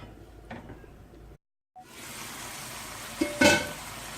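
Tomatoes cooking in a pan for mutton degi biryani hiss with a steady close sizzle and frying crackle, broken by a brief silence, then a couple of louder stirring scrapes near the end.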